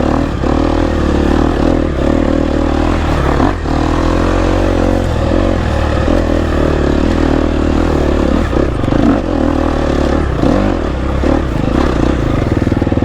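A GasGas EX250F dirt bike rides through tight turns, its engine roaring loud and close throughout, with the pitch rising and falling as the throttle opens and closes.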